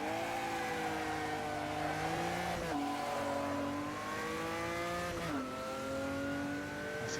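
An old-school V8 race car in the Automobilista racing video game accelerates, its engine note rising steadily through the gears. Two quick drops in pitch mark the upshifts, and the sound is close and continuous.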